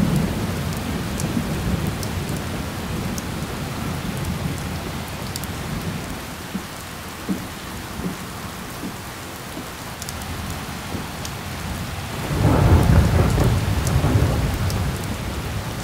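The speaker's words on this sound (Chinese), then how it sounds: "下雨了？" Steady rain falls with a low rolling thunder rumble, swelling into a louder, closer roll of thunder near the end; no voices.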